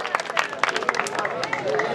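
An audience at a poetry gathering claps and cheers to welcome a poet, a dense burst of applause mixed with crowd babble and voices.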